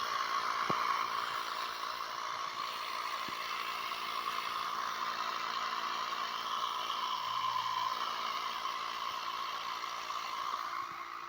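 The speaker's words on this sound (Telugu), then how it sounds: "ఈ పంప్ బ్యాటరీతో దీన్ని నడుపుతున్నా" Small battery-powered water pump motor running steadily, a continuous even hum with a faint whine, heard alone with a few soft clicks and no pauses.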